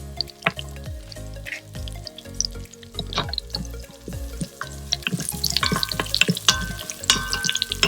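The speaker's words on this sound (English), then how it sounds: "Then I'll add the red chilies. I'll add the garlic to this." Red chilies and garlic sizzle in hot oil during outdoor garden cooking, a steady crackling fry broken by scraping and clinking stirs that grows busier and brighter toward the end, with no voices.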